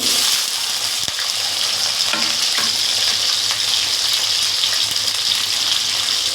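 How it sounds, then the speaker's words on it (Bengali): Pumpkin and potato fry loudly in hot oil, a dense, constant sizzle with a few brief stirring clicks near the start, no speech. "তেলটা গরম হয়ে গেছে, এবার এই কুমড়ো আর আলুটা ভেজে নেব আমি।"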